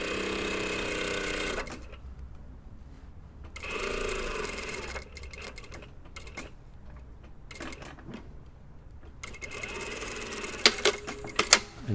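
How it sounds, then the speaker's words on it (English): Sewing machine stitching the underarm seam of a two-piece jacket sleeve on a dartless lined jacket, running in several loud bursts of rapid needle chatter separated by quieter pauses with small handling noises. "just sew down to the notch."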